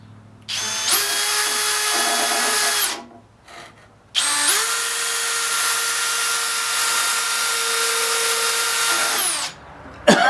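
A power drill driving 2-inch screws while modifying a Hi Point 9mm rifle: two loud, close, sustained high whines, the first about two seconds and the second about five, each with a slight pitch rise as it spins up, and no talk.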